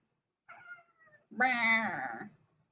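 A cat meows twice close by: a short, thin first call, then a longer, louder drawn-out meow.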